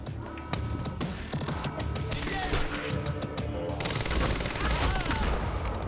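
Rapid automatic gunfire from an advanced weapon in the game Quantum Break, loud and close with sustained bursts, ringing metallic impacts and a dense chattering stream toward the end, over game ambience.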